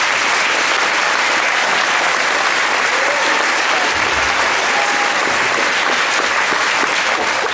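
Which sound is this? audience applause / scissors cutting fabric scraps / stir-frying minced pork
audience applause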